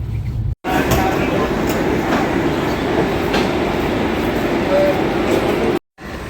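Passenger train rolling steadily in an economy coach near Barddhaman Junction, a continuous loud rumble with rail clatter throughout, briefly cut off at the start and near the end.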